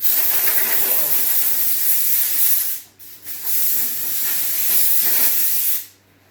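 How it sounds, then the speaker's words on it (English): Air blower blasts a strong, close hiss of air onto a car wheel during a ceramic coating job, in two long bursts separated by a short break. "I'll take an air blower, give it a light."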